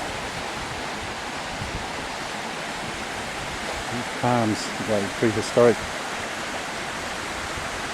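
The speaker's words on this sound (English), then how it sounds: "Beautiful waterfall." A waterfall in a small gorge in remote bushland near Kalumburu gives a steady, even rushing roar throughout, with a few brief spoken words over it partway through.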